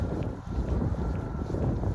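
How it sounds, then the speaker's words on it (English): Steady wind buffeting the microphone on a chilly outdoor run, a continuous low rumbling roar with no pauses and no voices. "it is definitely windy and chilly"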